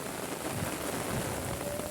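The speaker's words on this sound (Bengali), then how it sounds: "এই জন্য এই বৃষ্টি।" Steady rain falls across a village in a dense, even patter with no voices, a continuous close wash of drops on surfaces throughout.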